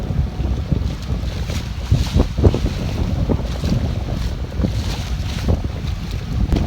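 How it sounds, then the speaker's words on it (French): Gusty wind buffets a sailboat running along the northeast coast of Rhodes, a steady loud roar of wind noise with surging gusts and wash of waves, no voices. "Ici le long de la côte, sur la remontée sur Rhodes, c'est rafaleux, ça varie entre 10 nœuds et 27 nœuds."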